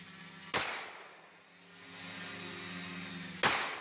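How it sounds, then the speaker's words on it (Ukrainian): Two sharp shots from a semi-automatic pistol mounted on a quadcopter crack about three seconds apart over a steady buzzing hum of small rotors, fairly distant and with no speech. "На звичайний квадрокоптер прилаштований напівавтоматичний пістолет, який робить кілька пострілів."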